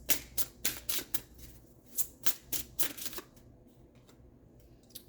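Playing cards shuffled in a series of quick riffled bursts, crisp and close, fading into quieter handling toward the end with no talk.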